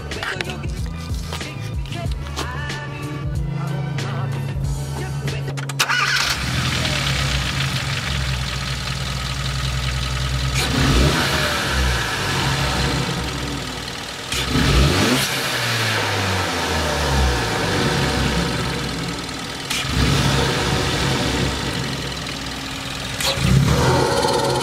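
Hyundai Veloster engine on its stock blow-off valve and stock intercooler, idling and then repeatedly revved hard, each rev climbing and falling away, close and loud with some knocking texture and occasional voices between blips.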